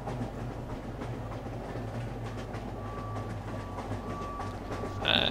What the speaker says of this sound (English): At least it sounds like a train.